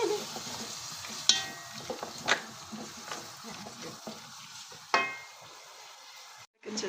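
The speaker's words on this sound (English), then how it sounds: "And now she's frying the onions underneath the oil." Steady sizzling of onions frying in oil, with occasional stirring scrapes and clinks, close by and moderately loud.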